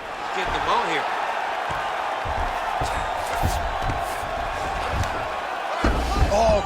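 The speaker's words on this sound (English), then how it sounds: "crowd just loving it as the fighters, after an extended grappling battle, make their way back to the feet" Arena crowd at a martial arts fight roars and cheers steadily as the fighters scramble back to their feet after a long grappling exchange, a dense sustained din with a few sharper shouts and bumps, commentators talking over it.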